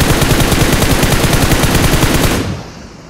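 Rapid sustained automatic gunfire in PUBG Mobile, loud and close, a continuous rattling burst that cuts off near the end and leaves a quieter tail.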